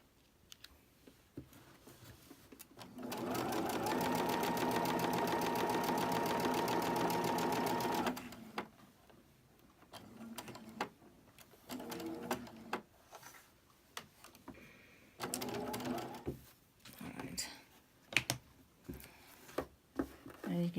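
A sewing machine stitches quilt pieces in one steady, close, loud run of several seconds, followed by scattered clicks and handling sounds with a person speaking in between.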